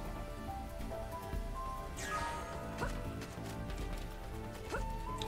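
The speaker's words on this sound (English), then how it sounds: "Heavy rain gives us some weird effects." Steady heavy rain in the video game Xenoblade Chronicles X, a constant hiss of falling water with occasional swooping game effects over soft background music.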